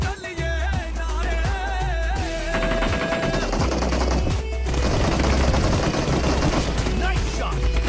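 Rapid gunfire from a PUBG Mobile team deathmatch, dense bursts of shots layered over loud, continuous background music, with rhythmic reports running throughout.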